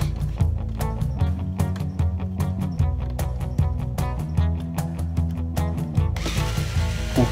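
A ratchet drives a screw while a reverb tank is being swapped inside a VOX AC30C2X guitar amp, giving a long run of rapid, evenly spaced clicking pawl ratchets, loud and close, with a brief hiss near the end.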